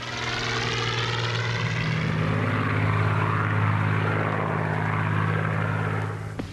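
A Spitfire fighter plane with a Rolls-Royce engine flies close by, its propeller engine producing a loud, steady, throbbing drone that holds for several seconds before cutting off sharply.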